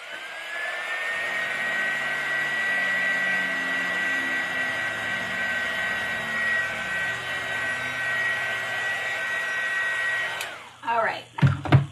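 A hair dryer blows steadily and loudly on a freshly decoupaged craft project for about ten seconds, a continuous whooshing drone, then cuts off abruptly, leaving brief clattering and handling noises at the end.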